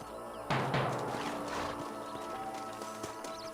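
Horses in the Western video game Red Dead Redemption move with a soft, steady clip-clop of hooves under a dusty canyon ambience, with faint tack and movement noise and no one speaking.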